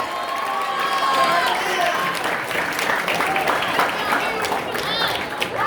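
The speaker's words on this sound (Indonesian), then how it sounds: "mari kita berikan tepuk tangan yang meriah untuk semua peserta" Applause and cheering ring out for all the contestants at a junior high school quiz final, a busy crowd sound running steadily with voices mixed in.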